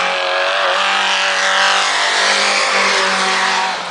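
A race car at a hill-climb style start roars away under hard acceleration, a loud, sustained close-up engine howl with rising harmonics held through the whole stretch.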